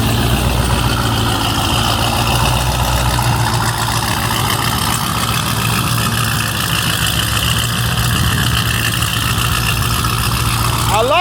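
A Jeep Trackhawk engine idles with a steady, dense low rumble and constant mechanical roar, close and loud throughout without change.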